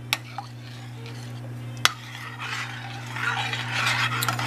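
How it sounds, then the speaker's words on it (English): A spoon scrapes around the sides of a pot of macaroni and cheese, soft stirring and scraping with a couple of sharp clinks, close, over a steady background hum. "Scrape the sides."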